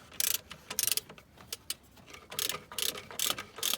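A ratchet backs out a bolt on the alternator of a 2000 Subaru Outback in bursts of rapid, close clicking, with short pauses between the turns and no one speaking.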